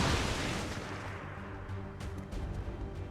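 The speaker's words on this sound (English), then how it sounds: "We are going to use the grenade on this sectoid." A grenade explosion in XCOM 2 opens with a heavy low boom, followed by a rumbling decay and scattered crackling debris, loud and without talk.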